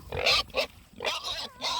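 Pigs in a pen grunting and oinking at close range, several throaty calls in quick succession with short gaps between them and no talk over them.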